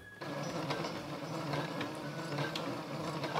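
Sewing machine starting to stitch the fabric of a dog bed cover, a steady rattling clatter that kicks in after a brief quiet moment and keeps running at moderate loudness.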